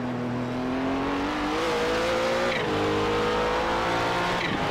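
Race cars brake into a corner at Bathurst in a racing video game, a loud engine note dropping in pitch as the car slows, with brief tire noise as it turns in, no talk.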